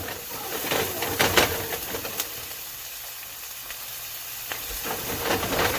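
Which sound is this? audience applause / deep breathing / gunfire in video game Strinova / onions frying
onions frying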